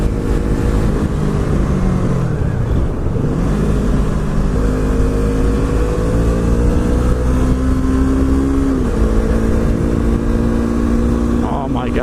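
A Yamaha R3 motorcycle engine drones and revs while riding, pitch rising and falling through gear changes under steady wind noise, with a rider talking over it.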